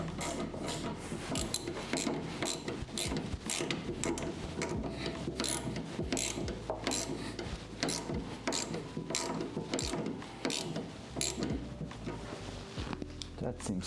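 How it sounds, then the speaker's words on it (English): Ratcheting wrench clicks repeatedly while a car's front sway bar is bolted back in during a tuning job, a steady run of close mechanical clicks and metallic rattles with speech-like sounds mixed in. "Gonna start screwing in again the other side because that one has no tension at all."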